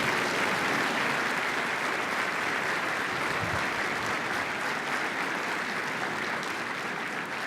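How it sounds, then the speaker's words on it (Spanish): An audience at the Santiago Chamber of Commerce's 95th anniversary event gives a sustained, full round of applause welcoming former Chilean president Sebastián Piñera, steady and loud from start to finish with no talking over it. "lo recibimos también con este aplauso"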